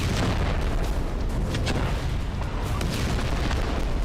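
Bombing explosions in southern Gaza near the Rafah border come through as dense, rumbling booms and crackling bursts, a continuous distant roar of blasts with no voices.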